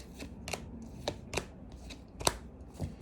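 Tarot cards being shuffled by hand, heard as a series of soft, papery riffling bursts at an uneven pace, fairly close and quiet, with no talking.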